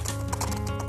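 Hooves of 007, a champion show-jumping horse, clip-clop in a quick, even rhythm at close range in one brief burst of walking steps.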